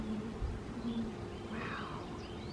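Honeybees in a beehive building comb make a steady, close, dense buzzing hum that continues throughout without pause.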